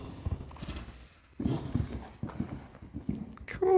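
Horse hooves clip-clop on the ground during show jumping training, a loud, uneven run of thuds close by, ending with a short whinny or squeal.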